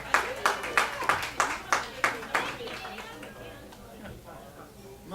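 A round of clapping for a musician at Northlake Tavern & Pizza in Seattle, several sharp rhythmic bursts up front that fade into scattered claps and room chatter.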